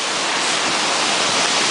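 Steady, loud rush of a waterfall close by with fine drizzle falling, a dense broadband roar that holds constant throughout with no voices.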